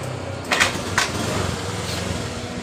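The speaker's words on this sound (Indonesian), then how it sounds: "Kita engkol dulu ya teman-teman." A Honda Beat FI scooter engine is kick-started and settles into a low, steady idle, with two sharp bursts near the start over a continuous close-up rumble.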